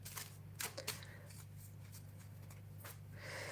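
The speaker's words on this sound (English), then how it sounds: "I'll just shuffle them while I wait." Soft, continuous papery riffling of tarot cards being shuffled, with a few sharper flicks early on, over a steady low hum.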